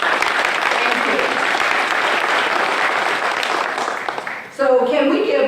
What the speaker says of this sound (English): So can we give all of our elected officials here with us today a round of applause?